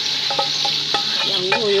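Peanut sauce frying in a pot on the stove, a steady sizzle running throughout with a few short scraping stirs, close and fairly loud.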